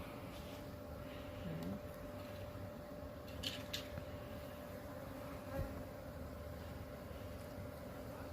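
A spring honeybee swarm being coaxed into a hive box, a low, steady droning hum of many bees with individual insects buzzing past close by, faint and continuous under a quiet outdoor background.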